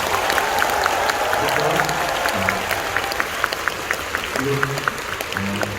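A concert hall audience at a show in Seoul applauds in a dense, sustained wash of clapping with scattered cheers, while a voice speaks over the crowd at moderate distance.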